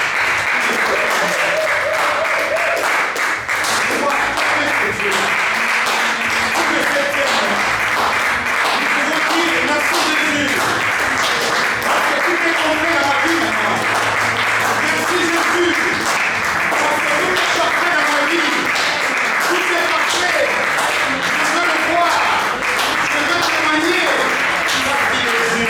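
A church congregation bursting into sustained, dense applause that fills a large room and stays loud throughout, with cheering voices mixed into the clapping.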